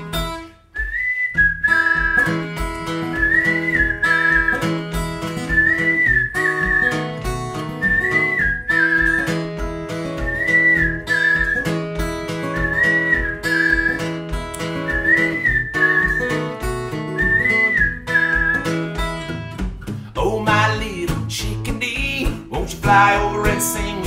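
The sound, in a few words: whistled imitation of a chickadee's song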